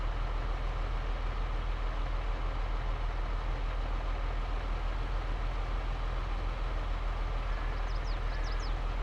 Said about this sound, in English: when you turn on the manual ignition, you have to manually start the engine